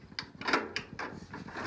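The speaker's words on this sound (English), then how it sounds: "I'll close the door again because it's getting cold in here." A door is pushed closed indoors, making a quick run of faint clattering knocks and latch clicks over low background noise.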